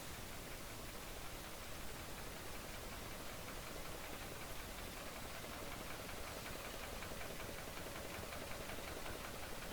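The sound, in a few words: noisy engine in the Splinter Cell 3 video game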